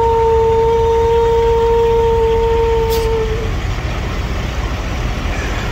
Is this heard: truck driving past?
yes